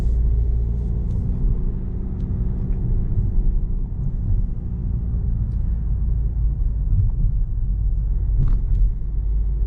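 Peugeot 3008 GT Line driving over small road bumps, heard from inside the cabin as a steady low rumble of road and engine noise with faint occasional knocks, no talking.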